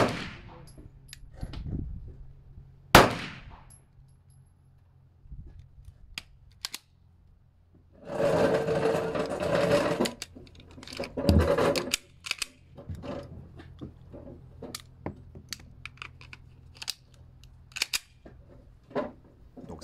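Dummy 9 mm cartridges are cycled through a Canik TP9 pistol, giving sharp metallic clacks and slide racks scattered among a dense cluster of rattling mechanical clicks, close and unaccompanied by talk.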